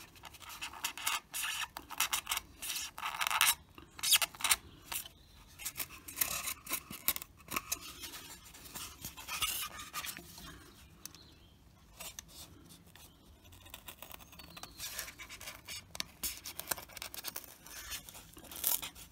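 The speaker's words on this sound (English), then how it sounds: "You should be sanding it by just getting the excess off" Fine sandpaper rubbing along the edge of a plastic P-51 Mustang model part, a dry scratchy rasp in repeated short strokes with irregular bursts and brief pauses, close and alone.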